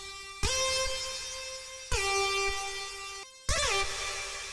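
A layered, oddly buzzy synth lead from Alchemy plays a melody in three sustained, bright, horn-like notes, each starting with a sharp attack and a quick pitch dip, loud and upfront with nothing else around.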